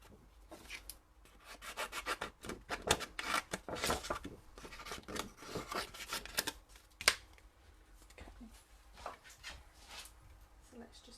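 Paper is cut with a Stitched So Sweetly die in close, dry rubbing and scraping strokes that come in irregular bursts, while a person talks quietly.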